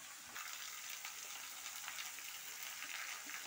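Food simmers in oil tempered with cumin seeds, a soft, steady sizzle that stays faint and even, with no voices over it.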